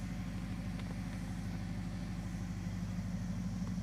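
A Dodge Charger crew cab conversion idles steadily close by, a low, even engine rumble with a faint rhythmic pulse and no voices.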